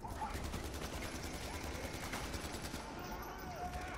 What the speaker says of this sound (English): freaking minigun guy